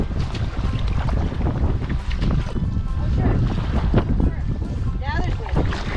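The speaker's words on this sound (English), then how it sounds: "there's wind now. Now that we're headed into it" Steady wind roars and buffets across the water while a canoe is paddled headlong into it on an Adirondack lake trip, a continuous broadband rush with occasional louder gusts, and someone talks over it.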